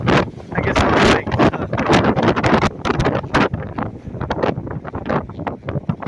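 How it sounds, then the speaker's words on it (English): Strong seaside wind on Balboa Pier at Newport Beach buffets the microphone in loud, close, continuous gusts and rumbling blasts, with no clear voices above it. "It is super, super windy here today."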